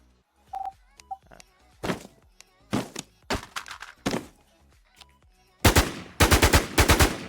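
A SIG rifle with a skin in the online game Warz DEADZONEZ fires in loud, close shots. Single shots come first, then rapid bursts toward the end, with small clicks and game sounds in between.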